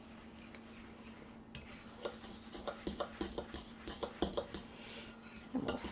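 Breadcrumbs being stirred in a bowl, a faint utensil scraping and clinking against the bowl in an irregular series of light taps that grows slightly busier toward the end, with no talking.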